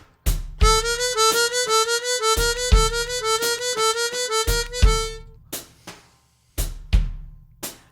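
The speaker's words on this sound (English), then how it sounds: "a double time triplet feel with six notes per beat." Fast chromatic harmonica notes in a slow E blues, rippling six to a beat in a double-time triplet feel over a backing groove, ending in a few isolated drum hits.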